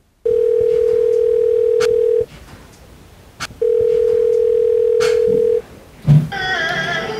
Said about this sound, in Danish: Men vi prøver lige at ringe til dem.